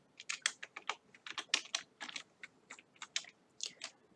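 Code is typed on a computer keyboard in quick, irregular bursts of crisp key clicks, close and fairly quiet, with short pauses between runs.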